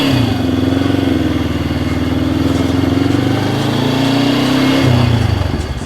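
A Honda CL77 Scrambler motorcycle engine runs steadily on a test ride, a loud, close, continuous buzzing drone that holds an even pitch and shifts down near the end.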